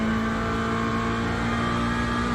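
A Corvette GT3 race car engine in a racing video game drones steadily at high revs, a constant buzzing whine with no pauses, loud and close; the tires are cold just after leaving the pits.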